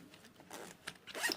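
A zipper closes a pencil case in several quick rasping pulls, close and soft, with the final pull the loudest.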